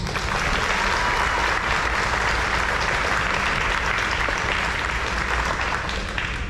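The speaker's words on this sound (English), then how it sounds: "students, please give your parents, family members, and supporters a big round of applause" An audience at a Stony Point High School Navy JROTC change of command ceremony applauds parents, family members and supporters, a loud, steady, dense round of clapping that holds without a break from start to finish.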